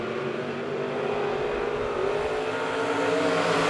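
B-Mod and Midwest Mod race cars roar around the Monett Motor Speedway dirt track during a heat race, a dense, sustained engine drone that swells slightly as the pack runs on.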